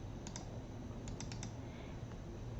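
Quiet mouse clicks, with a double click early and then a quick cluster of clicks, come from a computer being used to edit photos in Adobe Camera Raw in Photoshop. They are faint against a low background hiss.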